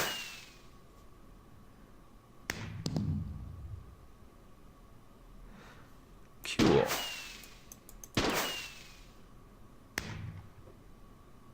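Colored fireworks launched in a Minecraft modpack game: several sharp whooshing launches and bursts spaced a second or two apart, moderately loud, with a brief spoken word at one point.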